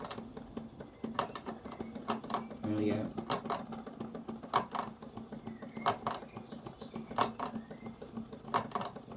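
A Wilesco D16 toy steam engine clanks its governor as it slows, a train of sharp metallic ticks and clangs in an uneven rhythm, close by, with someone speaking briefly partway through.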